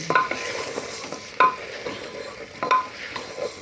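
Banana stem and chana dal being sautéed in a pan, a soft continuous sizzle broken by three sharp scraping stirs of a spatula spaced about a second and a half apart, close and clear with no talk.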